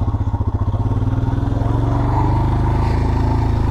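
A motorcycle engine runs steadily at close range in the Western Ghats near Coonoor, its throbbing exhaust pulsing as the bike cruises along, loud and continuous without any voices.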